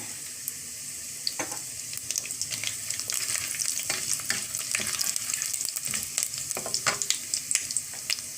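Whole spices, among them cinnamon, cloves and cardamom, frying in hot oil in a pan, a continuous crackling sizzle with scattered sharp pops and spits, close and fairly quiet, with no talking.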